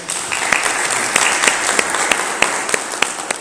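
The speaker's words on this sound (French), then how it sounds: "je souhaiterais que l'on puisse applaudir très fort" Audience applauding at a book presentation ceremony, a dense steady wash of many hands with a few sharper individual claps standing out, sustained and fairly loud throughout.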